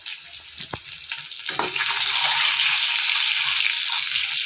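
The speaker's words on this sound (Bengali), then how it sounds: "আর এই যে এখন ডিম ভাজা করছি" Eggs frying in a pan alongside already-fried potato in a home kitchen, a steady loud hiss and crackle that swells after a couple of soft clunks and then holds evenly to the end.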